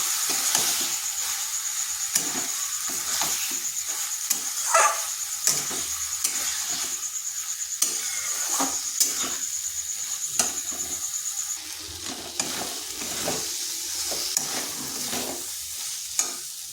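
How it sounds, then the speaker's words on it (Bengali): Jackfruit seeds fry in oil with spices in a pan, giving a continuous sizzle. A utensil stirs and scrapes the pan in repeated strokes throughout, close and fairly loud, with no talking. "এখন দিয়ে দেব কাঁঠাল বিচিগুলো। এই মশলার সাথে একটু কষে নেব।"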